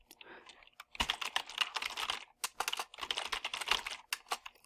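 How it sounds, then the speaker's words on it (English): Rapid bursts of keystrokes on a computer keyboard, close and fairly quiet, coming in quick clustered runs with brief pauses between them. "I type really fast."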